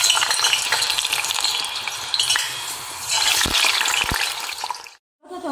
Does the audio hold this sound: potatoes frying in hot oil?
yes